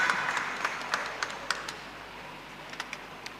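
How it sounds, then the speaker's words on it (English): Scattered, faint clapping from a crowd at a Goa youth fest gathering, with sharp individual claps popping out irregularly over a quiet, thin wash of applause that tapers off. "Come on, keep clapping, man."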